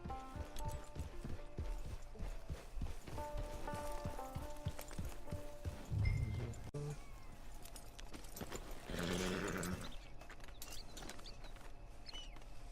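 Horse hooves clip-clop steadily in the Red Dead Redemption 2 video game, a fast, even trotting rhythm close by. Game music and faint mechanical clicking sound alongside, with a louder swelling noise near the end.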